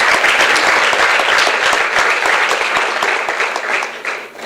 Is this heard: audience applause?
yes